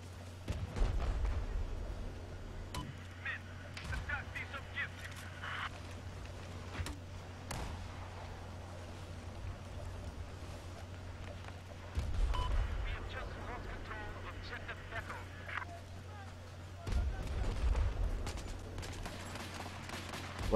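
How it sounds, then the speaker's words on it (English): Explosives detonated in the Battlefield 4 video game produce faint, distant booms and rumbling blasts, several spread across the stretch, amid low ambient battle noise and muffled voices. "What did I just detonate?"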